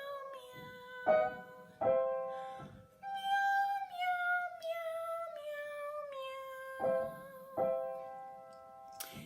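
A person's voice imitates a cat, drawn-out high meows repeated several times with pitch slides and breaths between, close and clear in a quiet vocal-training setting.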